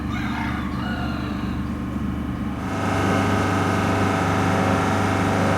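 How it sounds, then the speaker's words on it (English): Hens in a small chicken coop in a residential courtyard, clucking and crowing over a steady mechanical hum that rises in level partway through, with no talking. "Busy, busy, busy chickens."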